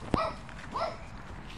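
A small dog gives two short, high whimpering yips close by, spaced under a second apart, with no talking.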